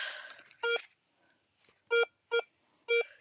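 A metal detector gives four loud, clear electronic tones, one near the start and three spaced across the rest, with faint rustling in between; the signal is heard while searching during outdoor detection.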